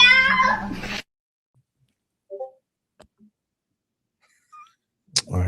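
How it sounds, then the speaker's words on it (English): A cat meows loudly at close range in one drawn-out, strained cry, followed by near silence with a few faint clicks. "The big cat"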